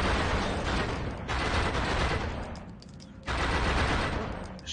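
Heavy, dense video game gunfire at a fusillade pace fills the clip as an enemy takes a shot to the head, with loud sustained bursts, a brief dip near the three-second mark and no speech over it.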